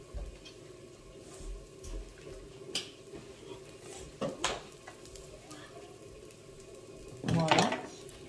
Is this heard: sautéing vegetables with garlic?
yes